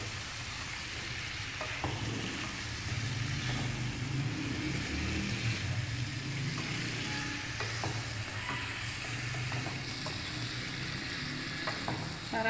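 Spiced potatoes frying in a pan, a broad, steady sizzle that holds without a break, with a few faint utensil scrapes and clicks now and then; close by and no one speaks.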